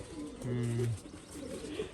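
Pet pigeons kept for flying contests coo in a loft, one low, throaty coo standing out clearly near the start, with softer bird sounds and room noise after.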